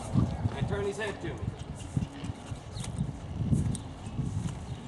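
Hooves clip-clop at a walk on ground as a rider ponies a young horse alongside, pushing it into its hindquarters; steady, fairly near footfalls run throughout with people talking over them.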